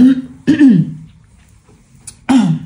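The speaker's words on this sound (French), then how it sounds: "je bois un petit peu parce que je tousse beaucoup" Several harsh coughs or throat clearings, close and loud, in short bursts separated by pauses.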